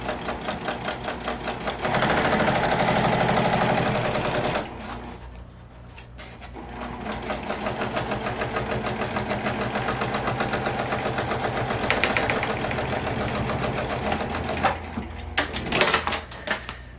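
A sewing machine stitching vinyl whirs in rapid bursts, stopping briefly a few times before running again, close and steady.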